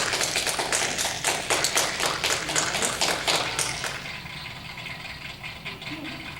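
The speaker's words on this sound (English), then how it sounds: "Okay, we're gonna clap." Several people clap during an outdoor dog training lesson, a steady run of sharp hand claps over a low engine-like hum, fading to softer scattered claps near the end.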